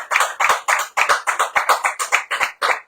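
A few people applauding in a radio studio, a short run of sharp, evenly spaced hand claps, close and dry, with no talk over them.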